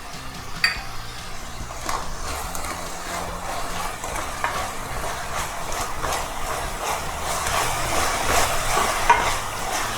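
Ginger garlic paste sizzles in a pan with a steady hiss and crackle, broken by occasional scraping and clinking as it is stirred.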